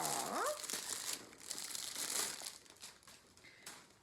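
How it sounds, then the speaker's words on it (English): Flimsy plastic wrap is ripped and crinkled off a makeup collaboration box, giving a close, continuous rustling and crackling that fades toward the end. "there is just the kind of flimsy plastic wrap all the way around. So let's go ahead and rip that off."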